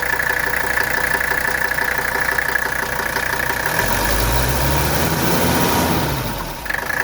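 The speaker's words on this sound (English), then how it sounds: "Look how smooth the engine is." A 1983 Mercedes 300CD engine idles steadily and loudly close by, with a rhythmic mechanical chatter and a deeper rumble swelling midway through.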